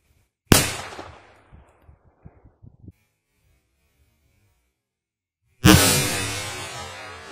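A strong firecracker sold as TNT dynamite blasts against a wall, a sharp loud bang at the start, with debris pattering after it, then a second loud burst of noise near the end.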